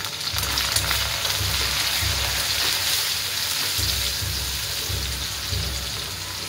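Chopped onion tipped into garlic frying in oil for palak paneer, a steady, dense sizzle with soft stirring, heard close and moderately loud with no talking.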